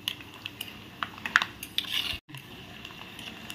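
A spoon scrapes and clinks against a kadhai as a fasting-style chivda mixture is stirred, with scattered close metallic taps and rustles, a brief pause partway through, and no talk.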